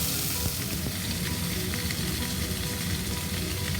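Chicken and okra frying in oil, a dense, constant close-up sizzle with faint crackles and occasional stirring taps, steady in loudness throughout and free of talk.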